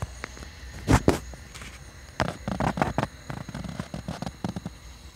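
Outdoor Fourth of July fireworks pop and crack, with a couple of sharp bangs followed by a scattered run of smaller crackling bursts in the distance.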